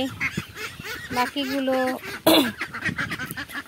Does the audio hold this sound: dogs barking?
no